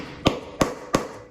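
A hammer strikes a tool three times at an even pace, setting eyelet tips on DIY roller-skate toe guards; sharp close taps that ring briefly and carry no talk.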